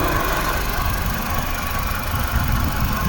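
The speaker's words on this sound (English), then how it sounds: "The car had new plugs with the service, and I can hear a gearbox noise." A Honda car runs with its engine at a steady, close, loud mechanical drone and a constant low rumble, carrying a gearbox noise throughout, with no talking.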